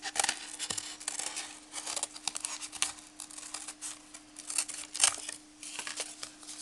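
Scissors cut a round shape in quick, crisp snips that come in short irregular bursts, close and fairly quiet, with a faint steady hum underneath and no talking.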